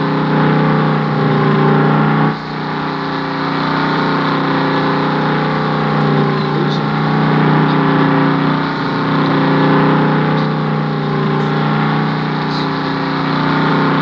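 A truck engine runs steadily during a farm hog harvest, a loud continuous low drone with harmonic hum and slight shifts in pitch, close and alone without speech.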